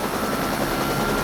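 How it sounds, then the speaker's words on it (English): A helicopter bucks and tilts in the air above a prison, its rotor giving a loud, steady, broadband whirring roar throughout. "The chopper began to buck and tilt in the air above the prison."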